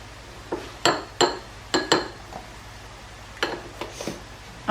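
A spoon clinks against a bowl several times while natural yoghurt is scooped in for mint raita, bright metallic taps in small pairs over a low steady hum.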